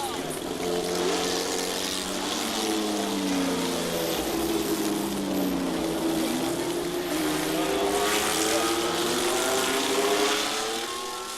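Big Ford race cars at the 1966 Le Mans race pass wheel to wheel, a loud sustained engine roar with shifting pitch sweeps through the whole stretch, crowd and commentary sounds mixed faintly underneath.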